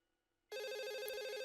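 A phone rings in the video game Another Code: R, an electronic warbling ring that starts suddenly out of near silence and holds steady and close.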